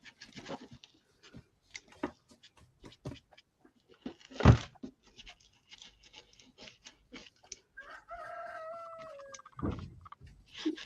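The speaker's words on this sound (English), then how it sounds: "sounded like a cockerel" A rooster crows nearby, in a drawn-out call near the end, amid scattered clucks, clicks and small knocks; a loud thump sounds midway, and no speech is heard.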